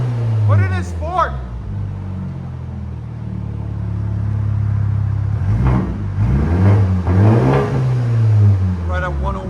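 A 2021 BMW M430i with a 2.0L turbo engine and straight-piped exhaust held at a limited rev, giving a steady loud droning rumble with rising and falling engine pitch, while people talk over it.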